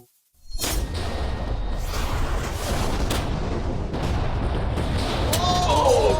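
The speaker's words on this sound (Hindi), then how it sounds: "तेज धमाका था" A loud, sustained explosion from the Minecraft video game roars at close range for several seconds as a broad, rumbling blast with whooshing debris, while faint game sounds and a brief whistle-like tone appear near the end.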